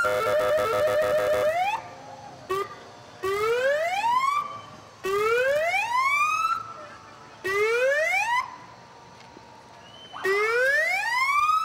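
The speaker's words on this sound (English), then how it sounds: "And they've got the cool sirens." An ambulance siren in the Vernon Winter Carnival parade rises and falls in repeated sweeping wails, pausing briefly between cycles, close by and dominant throughout.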